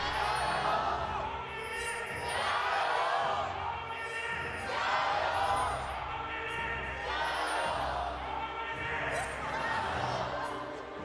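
Crowd at an LPL esports match arena, JDG vs WBG, cheering and shouting in rising and falling waves, distant and echoing, with commentators talking over it.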